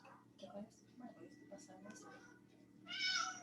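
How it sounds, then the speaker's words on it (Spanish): A cat gives a clear meow near the end, coming in after a stretch of Spanish talk in a classroom-style lesson. "Ese gato ahí."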